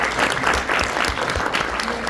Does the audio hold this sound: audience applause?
yes